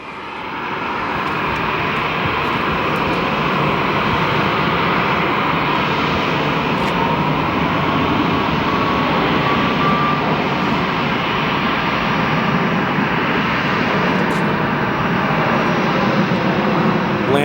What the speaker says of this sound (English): Here goes that MAX 8 to Nashville.